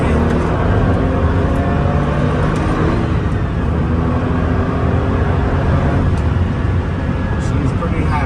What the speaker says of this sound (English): Our obligatory quick rush of horsepower. 3rd gear,